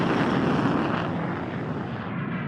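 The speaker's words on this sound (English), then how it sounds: "the Luftwaffe unleashes their advanced fighter plane, the Messerschmitt Me-262" Engine roar of a Messerschmitt Me-262 jet fighter from the Second World War, a loud, dense, continuous rushing drone that holds steady and then fades slightly toward the end.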